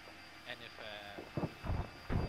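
Drone aircraft flying in Arma 3, a steady low engine drone with tonal whine, faint and continuous, with a few heavier low thumps toward the end.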